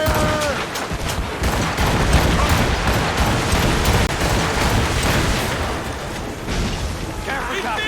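Ship cannons in an Assassin's Creed Rogue naval battle fire volley after volley, a loud rolling barrage of booms and crackling blasts that lasts throughout, with voices shouting commands over it.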